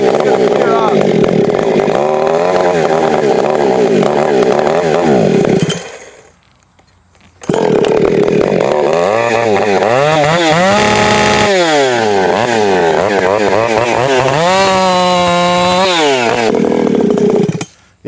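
Ported Husqvarna 592 chainsaw with coil and carburetor trouble, running loud and close, revving up and down with a stutter, cutting out briefly and restarting, then wavering through uneven revs.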